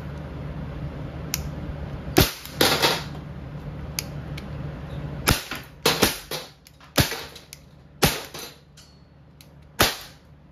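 A Walther CP99 air pistol fired double action at a target lets off about ten sharp, close snapping shots at uneven intervals, each a crisp crack over a faint steady background hum.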